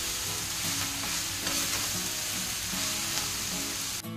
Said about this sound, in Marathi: आणि अलगद हाताने हा भात आपल्याला परतवून घ्यायचा.